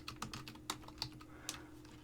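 Someone types on a computer keyboard in short, irregular bursts of crisp clicks and key taps, heard close but quiet, with no voices.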